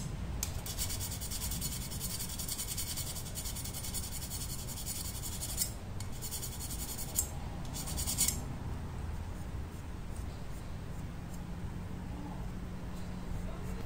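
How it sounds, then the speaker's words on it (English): A metal file rubs steadily over the snapped tip of a Japanese Santoku knife, giving a continuous, close rasping scrape with short louder strokes partway through. "So I'm going to take a file, and I'm going to try and smooth that over."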